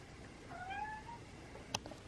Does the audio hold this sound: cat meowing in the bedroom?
yes